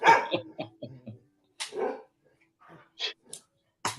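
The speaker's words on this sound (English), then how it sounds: "you conducting the symphony there, Vinny, of the dogs barking?" Several dogs bark and yip in short, separate bursts with quiet gaps between them, a rapid flurry at the start, then scattered single barks and a whimper, fairly close and without other sounds.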